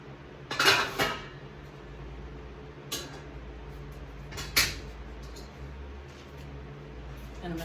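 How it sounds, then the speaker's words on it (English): A wok lifted out of a kitchen cupboard, with pans clanking and clattering in three or four sharp knocks against a quiet room background. "I'm going to get my wok out."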